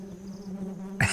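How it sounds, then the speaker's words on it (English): Bees buzz around beehives baited with beeswax at a Ugandan beekeeping site: a steady, faint drone holds throughout, then a louder, brief rush of sound closes it. "Is that the sound of bees I hear?"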